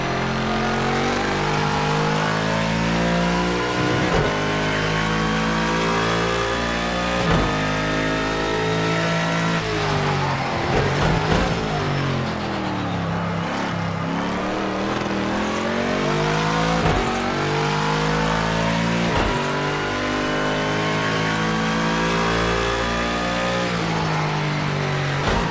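Formula 1 car engine in an F1 video game lapping the Algarve circuit, a loud high-pitched screaming engine rising through the gears with repeated sharp downshifts and climbs, continuous and close.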